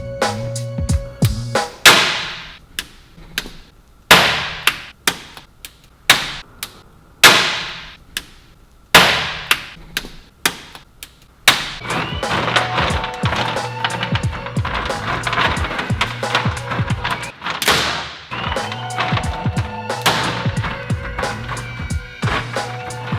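A scraper chips frozen, cracking sound deadening off a Honda NSX body, loud sharp cracks and knocks at first spaced apart, then turning into rapid, dense scraping and chipping.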